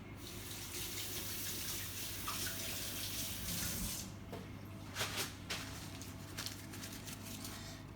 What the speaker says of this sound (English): what I'm going to do is quickly wash my hand.